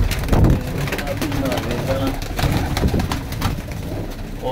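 Pigeons in a loft in Faisalabad coo steadily in soft, throaty rolls, with someone talking nearby and faint background noise throughout.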